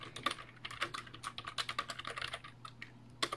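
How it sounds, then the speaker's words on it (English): Typing on a computer keyboard at a desk, a quick irregular run of soft, close key clicks lasting a few seconds. "and then I started typing"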